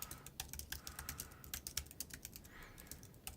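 Quiet, rapid keystrokes on a computer keyboard as an email is typed, an uneven patter of clicks with brief pauses and no talking.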